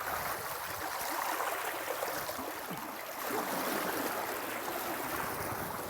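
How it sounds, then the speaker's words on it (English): Water rushing through the raceway of the Wayside Inn grist mill after the pen board is raised, a loud, steady, broad hissing flow that stays constant from start to finish with no voices. "Got a good bit of water going there. Water's flowing down here now through the raceway with a good velocity."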